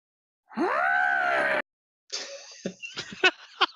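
A voice imitates a piercing shriek through a jungle, a rising, strained wail held about a second, then breaks into breathy, choppy vocal sounds and gasps.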